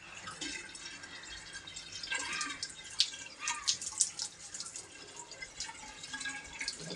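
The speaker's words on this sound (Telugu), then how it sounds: "వాటర్ అయితే పోస్తున్నాం." Water is poured, giving a soft trickling and dripping with a few brighter splashes in the middle, fairly quiet and close, with no talking.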